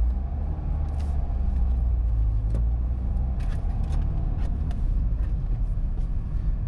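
A car drives steadily during a driving lesson, its engine and road rumble loud and continuous throughout, with occasional faint clicks and cabin noises over the low hum.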